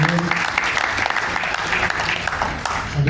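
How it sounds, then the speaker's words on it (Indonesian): An audience at an iftar gathering in Depok applauds with a dense, continuous wash of clapping that stays loud and steady for a few seconds, with faint crowd murmur underneath. "Tepuk tangan dulu buat Pak Haji Yun"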